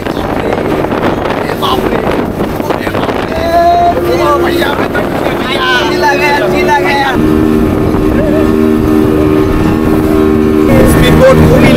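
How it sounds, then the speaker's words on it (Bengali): A speedboat slams and bounces across rough, storm-driven water on the return trip from Fatrar Char near Kuakata during Cyclone Remal. Engine roar and strong wind buffeting fill the whole clip, with voices and tonal sounds layered over it. "স্পিডবোট খুবই লাফাচ্ছে"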